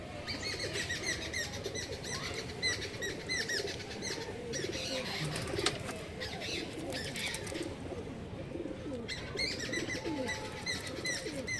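A pair of Kalshira pigeons moving about in a cage, wings flapping and bodies rustling close by, with intermittent soft coos and chirps throughout.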